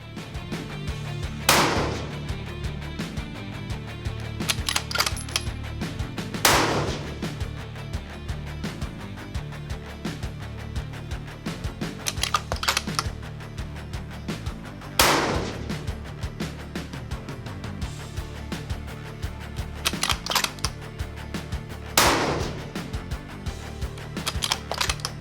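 Tikka T3x Tac A1 rifle fired from a bag rest, five sharp, loud shots spaced several seconds apart, each cracking over a constant low outdoor rumble with faint clicks of bolt handling between.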